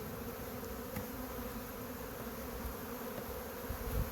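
Honeybees buzz from an opened nuc hive as frames are lifted out, a constant close drone with a few louder passes near the end and no speech.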